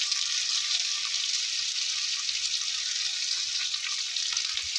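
Potatoes sizzle steadily as they fry with salt and turmeric for a soybean and potato curry, a dense continuous hiss with faint stirring underneath and no talking.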